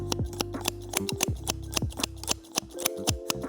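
Titan 7.0 hair-cutting scissors snap shut again and again in close, crisp metallic clicks at a quick, uneven rhythm while cutting hair against a comb.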